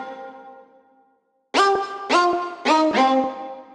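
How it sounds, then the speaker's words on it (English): Fairlight CMI Cello 2 sample drenched in reverb: a sustained harmonic tone fading into a reverberant tail, then three close, loud bowed-string note attacks in a quick rhythmic figure with no talking. "I think it's the Cello 2 sample, which she probably processed with reverbs and other effects."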